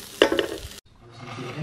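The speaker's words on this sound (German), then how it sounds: "Außerdem brate ich da auch noch ein bisschen Zucchini mit an" Tempeh and zucchini fry in a pan, a brief scrape of stirring and a soft steady sizzle that cuts out and then returns more quietly.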